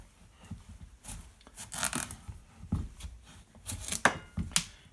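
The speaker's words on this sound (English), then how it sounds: "So we'll cut this into 4 quarters." A knife saws and chops through a tough Queensland blue squash on a board, cutting it into quarters: scattered rasping strokes and sharp thunks, close and fairly quiet, with no talking.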